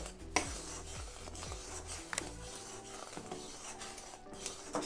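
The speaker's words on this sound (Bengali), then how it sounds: "খুন্তি দিয়ে ঘন ঘন গুড়টাকে আমি নাড়তে থাকবো যাতে তলায় লেগে না যায়" A spatula scrapes and stirs boiling jaggery in a pan, producing a steady scratchy rasp with repeated strokes and occasional metallic knocks against the pan, fairly close and with no voices.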